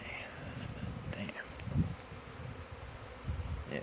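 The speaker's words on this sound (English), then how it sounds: "Yeah, it's a lot of bees." Honey bees buzz around beehives, a faint, continuous drone with brief louder passes close by and a soft rustling mixed in.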